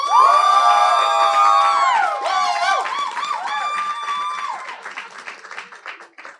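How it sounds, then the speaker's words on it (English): Audience at a presentation bursts into loud applause and cheering, with whoops and shouts riding over steady clapping that gradually thins out toward the end. "All right, now we can applaud."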